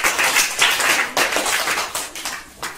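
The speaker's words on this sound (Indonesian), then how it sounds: "Tepuk tangan untuk kelompok." A classroom group gets continuous clapping after finishing a presentation: dense, fairly loud hand claps from several people, steady throughout with small surges and no talk.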